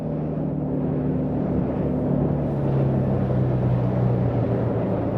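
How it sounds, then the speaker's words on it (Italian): A Suzuki DF250 outboard motor drives a Sea Star 22 RS boat across a lake, giving a steady, loud, deep engine drone and rumble that holds continuously without letup. "Bello sentire il rombo di questo motore."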